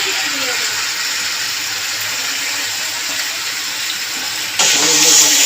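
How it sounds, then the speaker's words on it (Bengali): Marinated chicken is stirred into fried masala in a pan, a constant loud sizzling hiss that swells briefly near the end, with no clear talking. "ভালো করে নাড়িয়ে দিয়ে নেবো মশলার সাথে মাংসটাকে"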